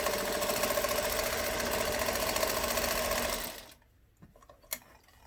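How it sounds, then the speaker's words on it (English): A sewing machine runs steadily, stitching a fabric collage onto a hat, with a loud, continuous close-up whir for about three and a half seconds before stopping abruptly, leaving a few faint clicks and handling noises. "The main thing is just to get a lot of stitching on there."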